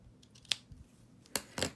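Scissors make a few quiet, close snips through designer series paper for card making, with three or four short crisp cuts and soft handling noise in between.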